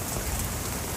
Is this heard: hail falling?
yes